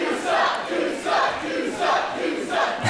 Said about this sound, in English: The crowd making their feelings known